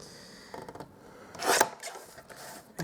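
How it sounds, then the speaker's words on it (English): A paper trimmer slices through Whisper White cardstock, a brief rasping swipe rising to a loud scrape in the middle, with softer rubbing and handling noises before and after, close and without speech. "So I'm just going to bring my trimmer. I'm going to trim this up."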